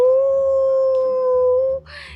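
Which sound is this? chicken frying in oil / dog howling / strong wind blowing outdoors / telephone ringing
dog howling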